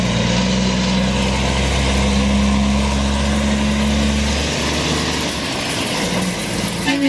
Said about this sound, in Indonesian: truk kontainer gandeng